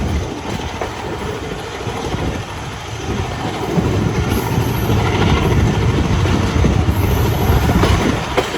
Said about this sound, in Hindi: डाउन 70 एक्सप्रेस आ रही है।